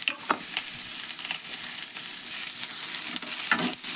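Onions fry in plenty of oil in a pan for chutney, giving a steady close sizzle and crackle with occasional sharper pops and stirring scrapes.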